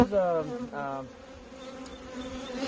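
Honey bees drone steadily at a new single hive made this spring, fitted with one super and a queen excluder, a close continuous hum with a couple of brief stronger tonal swells early on.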